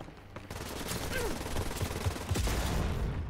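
Rapid gunfire bursts crackle in the video game Wolfenstein: Youngblood, dense automatic fire rattling over loud background combat noise with no one speaking.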